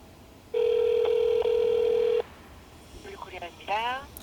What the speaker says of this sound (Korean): 오늘 BMW 코리아에 전화를 한번 해볼게요